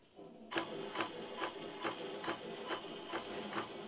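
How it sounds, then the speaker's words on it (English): An Innova longarm quilting machine running its automated stitching pattern, ticking in a steady rhythm of sharp mechanical clicks about twice a second over a constant motor hum, fairly quiet and with no talk. "let it move to the next portion that it's going to be doing its stitching"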